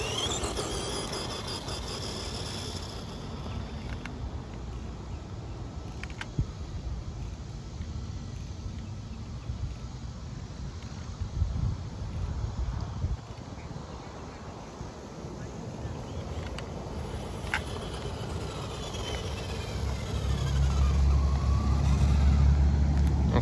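A 1987 Tamiya Striker RC car with a 25 turn GT motor runs outdoors: a continuous whirring motor and gritty tire rumble under wind noise, rising and falling in level and swelling louder near the end.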